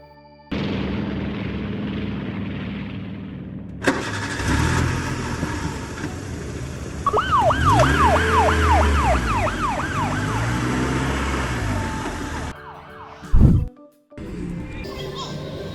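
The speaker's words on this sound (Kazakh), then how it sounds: "Жедел жәрдем көлігі." An ambulance siren wails in a rising and falling sweep over the rumble of the vehicle, loud and close, with children's voices and other traffic noise in a mixed transport sound sequence.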